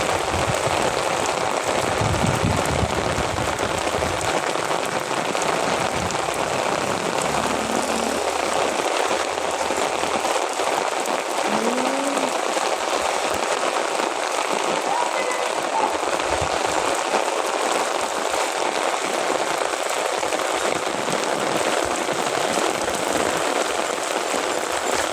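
A downpour of heavy rain drums and hisses continuously at close range, steady and loud throughout with no voices.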